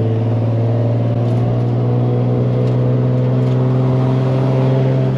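A BMW G80 M3 and a BMW Z run their engines close by, giving a loud, sustained drone with a steady hum throughout.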